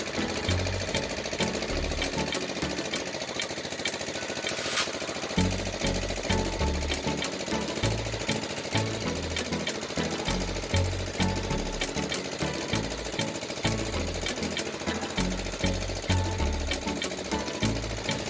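Steady, loud engine of a ketek, a small wooden motor boat on the Musi River in Indonesia, chugging in a fast mechanical rhythm throughout with no talk.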